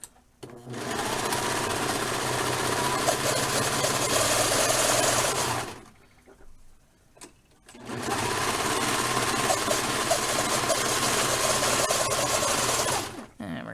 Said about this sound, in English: come back over here to the serger or your zigzagger, and I'm going to go down the sides